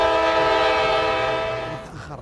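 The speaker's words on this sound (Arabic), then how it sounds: "يلا اقول لك هو هنا هذا القطار هنا." A passenger train's horn sounds as one long, loud, steady chord-like blast that fades slightly at the end as the train arrives.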